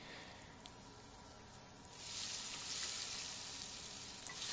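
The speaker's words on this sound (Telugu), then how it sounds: "సో ఆనియన్స్ మనకి బాగా ఫ్రై అవుతున్నాయి." Onions fry in a pan with a pinch of asafoetida for poha, making a faint, steady sizzle that grows a little louder partway through, with no talking.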